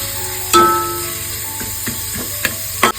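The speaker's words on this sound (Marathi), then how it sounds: "मीडियम साईजचा एक कांदा घातलेला आहे व्यवस्थित सर्व परतावून घेतोय" Chopped onion sautéing in hot oil for veg biryani, a steady close sizzle broken by several sharp scrapes and clanks of a spoon stirring against the pan.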